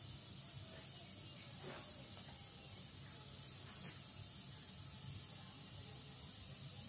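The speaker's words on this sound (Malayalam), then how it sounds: "എണ്ണ ചൂടായിട്ടുണ്ട്. അതിലേക്ക് കുറച്ച് ഉഴുന്ന് പരിപ്പിട്ട് കൊടുക്കാം." Urad dal and chana dal sizzling in hot oil for tomato rice, a steady broadband hiss and crackle that runs continuously and evenly at moderate level, with no talking.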